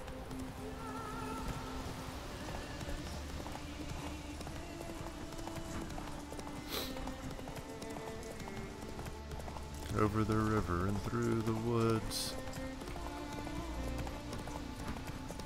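A horse ridden across open country in The Witcher 3 clip-clops in a steady trot beneath game music and someone talking, the hoofbeats briefly louder near the end.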